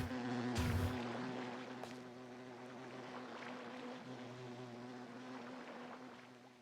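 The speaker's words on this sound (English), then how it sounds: "I was like, what is that buzzing noise? I thought a bug was just floating in my ear for a second there." Low, steady buzzing drone from a waving jellyfish in PowerWash Simulator's SpongeBob SquarePants level, hovering faintly under game ambience with a brief louder rush near the start.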